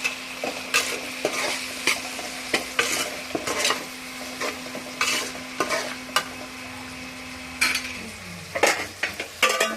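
Chicken with tomato and salt fries in a pan, a close sizzle under repeated scraping strokes of a spoon stirring against the metal, with a faint steady hum in the background.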